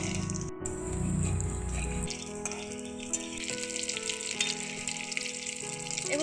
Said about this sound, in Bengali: এগুলোকে লাল করে ভেজে নেবো